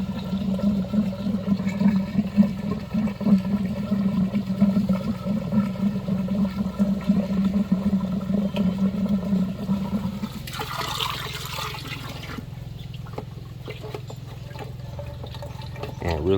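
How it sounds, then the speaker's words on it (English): Water rushes steadily while a sand filter on a tilapia pond is back-flushed, a continuous turbulent gush that shifts to a harsher, brighter splash near the end, with no one talking. "then I'll stop it and we'll back flush it out down the bottom down here."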